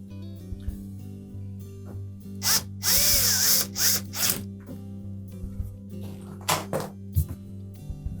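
Power drill driving a single screw to secure a bracket on a Whirlpool washer, heard as short whirring bursts, with one longer run in the middle, among quieter handling clatter.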